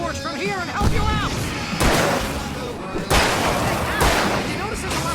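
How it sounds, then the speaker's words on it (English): Fireworks go off in the Alan Wake video game as a series of sharp, loud bangs roughly a second apart, under excited shouting voices. "I can set off more of the fireworks from here and help you out!"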